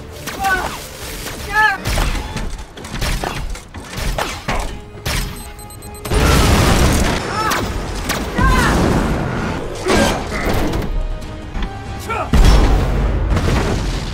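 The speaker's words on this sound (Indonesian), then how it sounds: "Hebatnya Optimus berhasil nih meledakkan sebuah bangunan yang menimpa Decepticon bernama Impactor." Loud, booming explosions and crashing impacts roll through a Transformers battle in which a building is blown up, with heavy thuds, debris and mechanical clanks under a narrator's voice.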